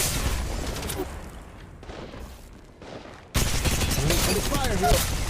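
Video game gunfire during a firefight, with rapid shots and blasts loud in the mix, a brief lull, then a sudden heavy return of shooting and explosions.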